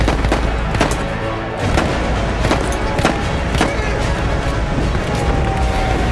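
Rapid gunfire rattles in Battlefield 1 game audio, sharp repeated shots over a dense wash of battle noise, while a player talks.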